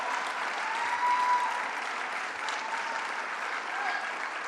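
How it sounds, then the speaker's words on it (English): A crowd at an outdoor political rally in Kingston claps steadily, a broad even wash of applause heard from some distance, with a faint voice under it. "Let's give her a big round of applause"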